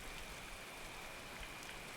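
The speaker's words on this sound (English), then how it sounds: "of course it's raining outside" Rain falls steadily outside in a video game, a soft, constant hiss of drops with no breaks. It is faint and distant, with no other sounds over it.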